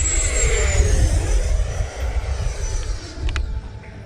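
A small electric RC jet plane on a 20-volt flight pack whooshes steadily past in a high-speed knife edge with a rushing, whining motor, loud and close, with gusty wind noise underneath.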